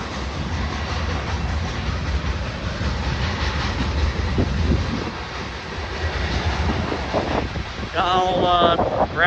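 A northbound gravel freight train rushes past at speed at a level crossing on Stassney Lane, giving a loud continuous roar of rolling wagons with wind buffeting the microphone. Squealing metallic tones rise near the end.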